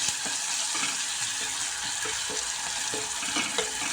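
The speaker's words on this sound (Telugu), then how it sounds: "టేస్ట్కి తగ్గ సాల్ట్ ఇప్పుడు యాడ్ చేసేది చాలా ఫాస్ట్గా ఫ్రై అయిపోతుంది" Onions frying with salt in a pan, a dense, steady sizzle with faint stirring taps beneath, close and continuous, no talking.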